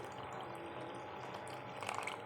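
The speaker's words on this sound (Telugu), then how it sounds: "water three cups of water వేసుకోవాలి" Water pours softly into wheat flour dosa batter with onions and green chillies in a continuous gentle trickle, quiet and close, with no voices.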